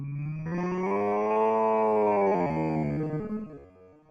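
A cartoonish cow moos in Spyro the Dragon, a single long, loud, bellowing low from a game sound effect, rising and sustained for about three seconds before trailing off.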